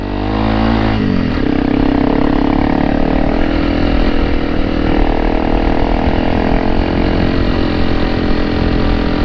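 Honda CRF300L Rally motorcycle engine during a ride, a loud steady drone that rises in pitch after a brief shift at the start, then holds near and constant throughout, with no talking.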